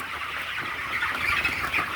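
A flock of farm chickens murmurs and chirps in a steady, moderately loud wash of bird noise inside a poultry shed, no voices present.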